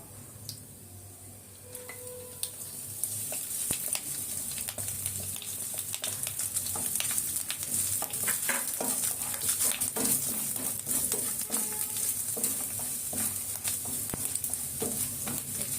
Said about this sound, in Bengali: এবার নারকেল কোড়াটা তেলের মধ্যে দিয়ে একটুখানি ভাজা ভাজা করে নেব।